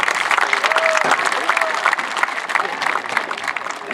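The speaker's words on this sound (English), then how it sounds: "big round of applause for No Back Up" An audience applauds at a Buckeyes team introduction event, steady dense clapping from a crowd with a few voices briefly rising above it.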